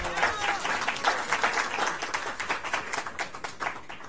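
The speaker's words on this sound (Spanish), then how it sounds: "Fuerte aplauso también." An audience at a country-brand licensing panel event applauds, a steady patter of many hands clapping at moderate distance that gradually thins toward the end.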